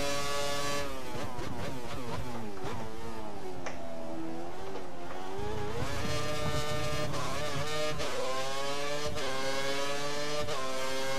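A Formula 1 car engine in the F1 2013 racing game, screaming at high pitch as it runs through the gears on a lap of the South Korea circuit, rising and falling in repeated revs and downshifts, loud and continuous with no talking.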